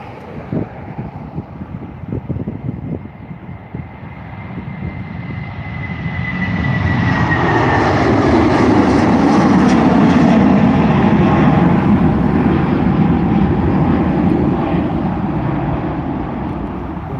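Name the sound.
Boeing 757 taking off at Dublin Airport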